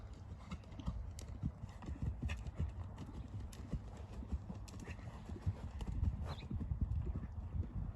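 A horse trots during a riding lesson, its hooves beating out a steady, quick clip-clop at moderate distance, with a faint whinny in places.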